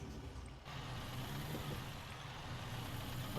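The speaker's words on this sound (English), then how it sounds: "It's not a bad sounding truck." International Lonestar truck in American Truck Simulator, a steady low diesel engine drone running continuously and evenly throughout, with no talk.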